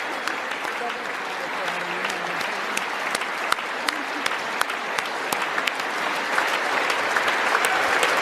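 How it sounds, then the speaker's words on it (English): US Congress on Capitol Hill giving a visiting leader a standing ovation, sustained loud applause with sharp individual claps, crowd noise and a voice speaking underneath. "He keeps saying thank you, and they keep applauding, and they're all standing up as far as I can tell right now."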